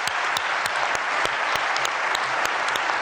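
Loud, dense applause from an audience after a political speech, a steady roar of clapping with sharp individual claps cutting through, with no talking.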